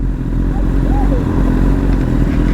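A sport motorcycle engine drones steadily nearby while the rider holds a wheelie, a continuous mid-pitched roar with wind rumble and faint voices underneath.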